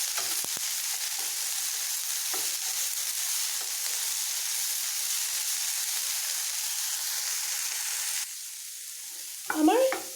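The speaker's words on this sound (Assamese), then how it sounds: "আমি এইকাৰণে কেৰেলাখিনি ফ্ৰাই কৰিছোঁ যে যাতে ই অকণমান কোমল হৈ যায়।" Bitter gourd sizzling and frying in a pan while being stirred, a steady crackling hiss that softens near the end before a few clinks of the spatula.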